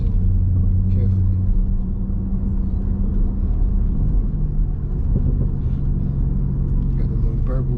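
A 2016–2017 SRT Jeep Grand Cherokee, heard from inside while driving, gives a deep continuous exhaust rumble with a low burbling drone that stays steady and loud throughout, with no talk over it.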